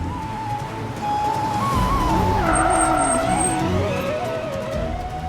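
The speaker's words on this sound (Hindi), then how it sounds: "ड्राइवर, गाड़ी रोको।" A car brakes hard to a stop with a long, rising and falling tire squeal over the loud engine rumble, close and sustained.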